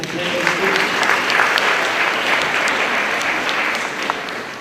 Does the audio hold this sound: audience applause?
yes